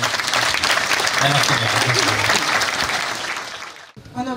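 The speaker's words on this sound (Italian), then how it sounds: "farei un applauso per la serata" Audience applause fills an Italian evening gala event, dense and steady for a few seconds before fading, while a voice speaks over the clapping near the end.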